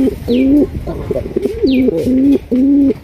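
Raj Golla pigeons, a matched male and female, coo loudly and close by in repeated throaty phrases with short breaks between them.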